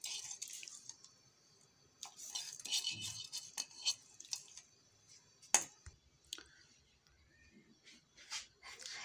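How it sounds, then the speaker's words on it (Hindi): Rice poured into a pot of boiling water in a home kitchen, heard as faint scattered patters, splashes and scraping clinks with one sharp clack near the middle, against quiet background hiss. "पानी बॉईल हो गया तो हम लोग चावल डाल रहे हैं इसके अंदर।"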